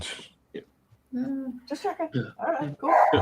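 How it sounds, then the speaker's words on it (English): Dogs barking in short bursts at close range, mixing with a voice as he talks over them. "Sorry for the dogs."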